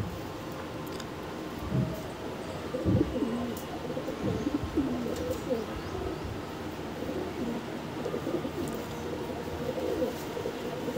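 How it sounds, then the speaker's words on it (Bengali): Andhra breed flying pigeons coo in low, repeated throaty murmurs, several calls overlapping at close range against a soft background rustle. "খুব সুন্দর উড়ানের পায়রা এইগুলো"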